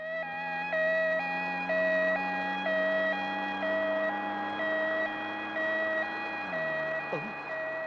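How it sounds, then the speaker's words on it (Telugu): An ambulance siren in a comedy film scene wails in a steady two-tone alternating pattern, loud and near, with its pitch dropping sharply near the end, while a low engine tone runs underneath. "అంబులెన్స్ వస్తుందటి."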